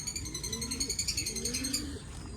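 Soft, low pigeon cooing in repeated rolling phrases, with a steady high-pitched ringing tone running above it, in the rural Philippines.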